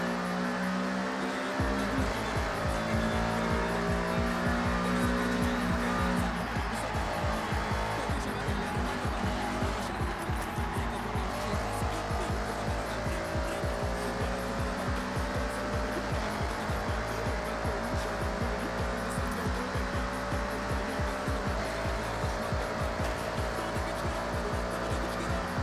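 Audi in the Forza racing game, its engine droning steadily and loud throughout with tire squeal mixed in as the car understeers, no talk over it.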